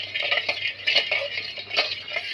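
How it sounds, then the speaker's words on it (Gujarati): A spoon scrapes and clinks steadily in a pot of semolina, sugar and a little milk being stirred for a stovetop cake, close, rhythmic metallic scraping with no talk. "થોડીક વાર હલાવી રાખવાનું"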